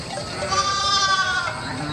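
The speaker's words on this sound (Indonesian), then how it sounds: "saat terbangun, dia sudah berada di depan sebuah peternakan kambing" Goats at a goat farm bleat amid a dense, steady wash of sound, fairly loud, with no clear talking.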